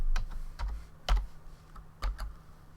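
A computer keyboard is tapped in a few separate, crisp keystrokes with short pauses between them, close and fairly quiet, with no talking.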